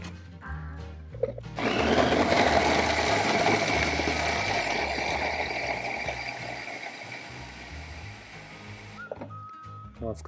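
A food processor chops a cut carrot for a homemade fish pâté, starting after a few quiet knocks and running as a loud, steady whirring grind for about seven seconds before stopping.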